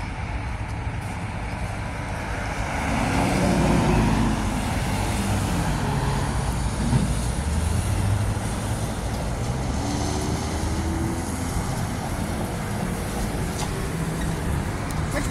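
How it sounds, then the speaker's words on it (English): A CNG-powered city transit bus idles nearby, a steady low engine rumble with a brief swell in loudness, over continuous road traffic noise with no talking. "You can hear the engine idle up the bus."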